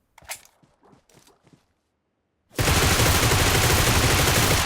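Video game gunfire in a battle royale match: a few faint clicks and soft thuds, a short silence, then a sudden loud, dense burst of rapid automatic fire that holds steady to the end.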